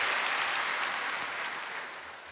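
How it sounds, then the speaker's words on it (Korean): A church congregation at a Friday night service applauds together, a dense, steady wash of clapping that fills the room and slowly fades. "박수 좀 치고 시작하겠습니다."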